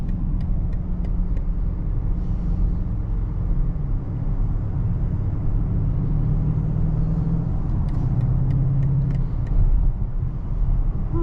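A 2023 BMW 760i with a V8 and xDrive cruises along, its low engine and road rumble steady and continuous from inside the cabin, with a few faint ticking clicks over it.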